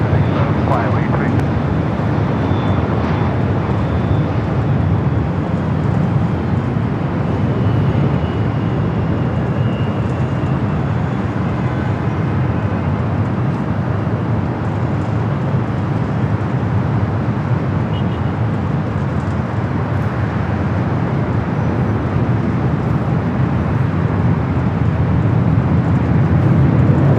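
An airliner comes in to land on runway 24 right at LAX, a steady broad roar of jet engines lasting the whole stretch. Air traffic control radio chatter and spotters' voices run over it.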